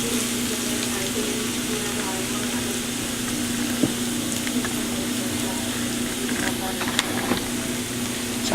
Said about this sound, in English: to saute these vegetables